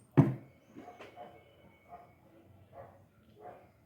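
A small dog gives one sharp bark, followed by softer yips and whimpers at a close indoor distance, fairly quiet overall.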